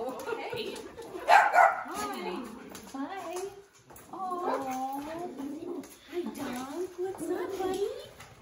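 A dog at a family birthday dinner gives several whiny, yelping vocalizations mixed with chatter from people nearby, moderately close and uneven.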